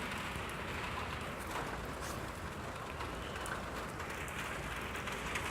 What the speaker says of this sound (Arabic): لان الجو ممطر.